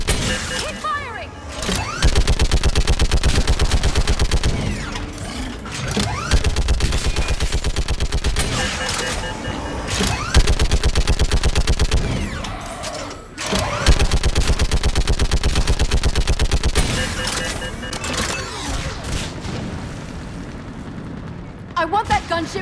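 Dense, loud automatic gunfire and explosions from a Mass Effect 3 battle roar almost nonstop, broken by a few brief lulls, with voices shouting over the combat.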